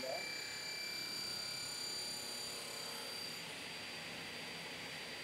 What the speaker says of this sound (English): We keep our hands pressed until the cutting process is completed.